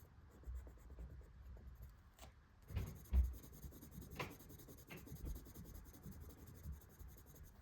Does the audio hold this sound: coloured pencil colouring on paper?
yes